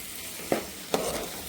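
Soaked, squeezed tamarind water is poured into a simmering egg and dried bombil fish curry, giving a continuous close sizzle and bubbling with a few brief splashy bursts.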